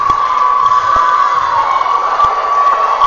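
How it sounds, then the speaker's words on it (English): High school game crowd cheering and applauding in a gym, a dense loud roar of voices with a steady whistle-like tone running through it. "The crowd giving him a round of applause for what a great game this is."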